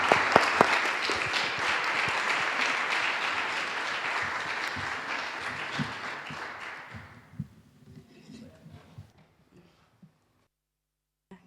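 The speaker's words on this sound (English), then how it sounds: "Round of applause." Audience applause at a live coding conference fills the room steadily for about seven seconds, then thins out into a few scattered claps and quiet.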